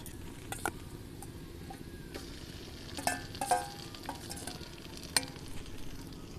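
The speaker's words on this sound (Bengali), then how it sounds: "এবার আমি যে পাতাটা বেটে রেখেছিলাম এটা আমি দিয়ে দেব।" Ground drumstick leaf paste going into a pan of fried ingredients, with a faint, low sizzle beneath scattered clinks and scrapes of a spoon stirring, fairly quiet and close, with no talking.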